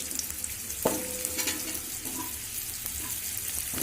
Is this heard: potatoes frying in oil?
yes